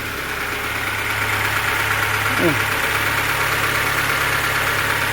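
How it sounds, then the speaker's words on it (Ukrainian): Chevrolet Niva engine idling after a cylinder head rebuild, a steady close mechanical hum with a slightly noisy, even running tone and a brief voice partway through. "Двигатель, звісно, трохи шумний."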